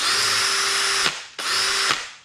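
A second cordless power drill spins at full speed in two bursts of roughly a second each, a steady high-pitched whine that ramps up sharply and cuts off, with a brief pause between runs.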